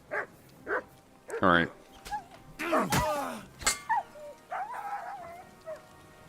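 A dog yelps and whimpers as it is killed during a fight in Kingdom Come: Deliverance 2, giving several sharp, high cries among thuds and combat noise, with a voice speaking briefly.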